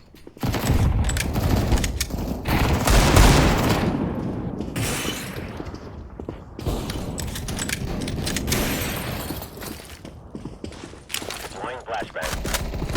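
Counter-Strike: Global Offensive weapons fire in an office map test with bots, dense bursts of automatic gunfire and single shots overlapping loudly, with brief pauses between volleys.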